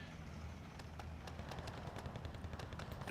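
A half-track's .50 cal machine gun and cannon fire in the Steel Division 2 war game, a fairly faint, rapid rattle of repeated shots over a low battlefield rumble.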